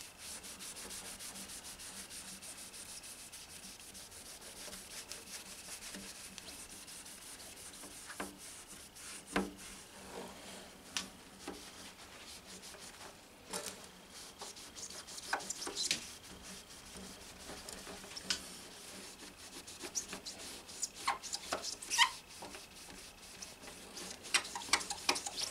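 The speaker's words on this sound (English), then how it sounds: "I'm gonna give her a little rub down." Pad rubbing down the wood of a guitar, soft continuous scrubbing strokes, faint and close, with occasional small taps and knocks toward the end.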